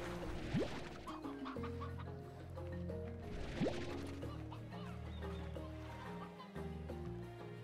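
Chickens cluck repeatedly in the video game Slime Rancher over a steady layer of music, with a couple of sharp crashing hits; a voice murmurs faintly.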